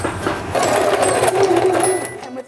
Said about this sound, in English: put right sides together and stitch from this point to this point